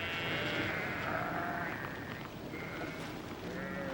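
Ewes bleating during a yearly roundup in the Orkney Islands, several overlapping calls at middle distance over steady outdoor background noise.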